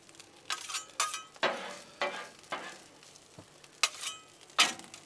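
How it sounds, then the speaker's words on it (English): Plain long grain white rice is stirred and scraped in a hot pan beside cooking pork chops, with a soft sizzle and sharp, uneven strokes of a spoon against the pan, close and without talk. "we're not looking to fry the rice, we're just looking to heat it up"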